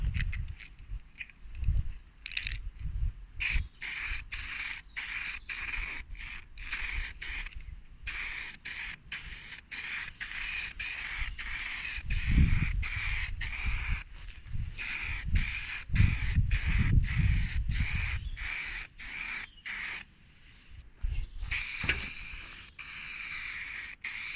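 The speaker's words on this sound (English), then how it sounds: "coats of Painter's Touch, and it's stone grey satin" Rattle-can bursts of Painter's Touch stone grey satin spray paint on an Atari Mega 1 computer case, a long series of rhythmic hissing sprays separated by short pauses, close and fairly loud.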